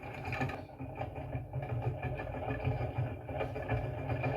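A small wool winder spins fast with a quiet, steady mechanical whirring and rattling hum that runs continuously at low volume.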